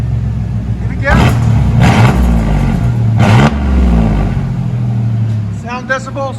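A 1995 GMC Sierra 4.3L V6 with straight-pipe dual exhaust revved hard several times, loud and close, each burst rising and falling over a rumbling idle, with a voice talking near the end.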